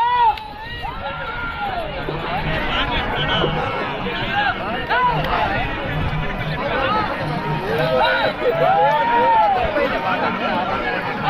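Crowd at an Ongole bull race whistling and shouting: many rising and falling whistles cut through a dense babble of voices and yells, steady and fairly loud throughout.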